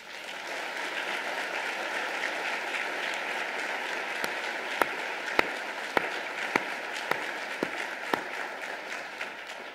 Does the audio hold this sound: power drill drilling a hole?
no